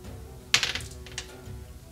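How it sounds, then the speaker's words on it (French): A quick, quiet clatter of dice tumbling and tapping on a surface during a Warhammer 40K tabletop game, a short burst of small knocks lasting under a second. "je vais faire un jet de dés."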